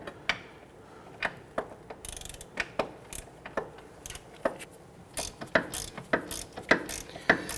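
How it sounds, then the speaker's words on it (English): A hand ratchet tightens sway bar bushing bolts on a 2006-2014 Honda Ridgeline, a series of sharp clicking bursts at a steady rhythm, close and fairly quiet, with no talk. "I'll switch over to our ratchet."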